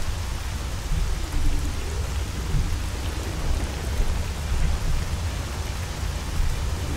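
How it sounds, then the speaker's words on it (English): Heavy, loud rain pours steadily in the S.T.A.L.K.E.R. Call of Pripyat game world, a dense continuous hiss with deep rumbling undertones like distant thunder, no voices over it. "Dude, this rain is so loud."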